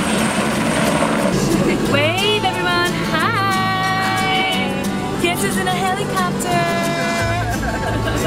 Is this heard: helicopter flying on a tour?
yes